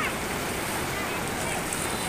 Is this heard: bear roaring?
no